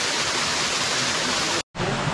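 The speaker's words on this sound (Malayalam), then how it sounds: "ഐസ് പോലത്തെ വെള്ളച്ചാട്ടത്തിൽ" An ice-cold waterfall on a trekking trail at Kakkadampoyil, Kerala, roars in a loud, steady, broadband rush, broken only by a momentary cut near the end.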